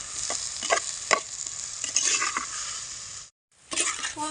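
Chopped ridge gourd sautés in a hot pan, a steady sizzle broken by several scraping stirs of a spoon, then a brief cut to silence before the frying and stirring pick up again, close and without voices.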